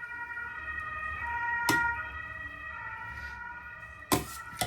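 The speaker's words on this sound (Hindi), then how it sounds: "एम्बुलेंस गुजर रही है बाहर से, ये टूनू टूनू एम्बुलेंस की है।" An ambulance siren wails steadily from outside with a two-tone pattern, joined by a couple of sharp clattering bangs nearby.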